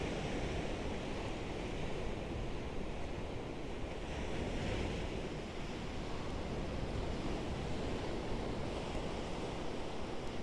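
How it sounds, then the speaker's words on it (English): Ocean surf rolling onto a beach on a warm, breezy evening, a continuous deep wash of breaking waves with gusts of wind buffeting the microphone, no voices over it. "the waves, and even more than that, just hearing them in the background the whole time"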